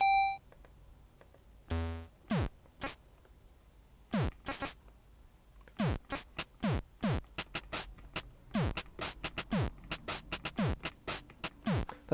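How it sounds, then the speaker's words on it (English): A PO-20 Arcade pocket synth plays a bright, bleepy chiptune pattern with added electronic drums, punchy kick-like thumps and sharp ticks falling into a steady rhythm that grows busier toward the end, loud and clear with no voices. "let's get some drums in there."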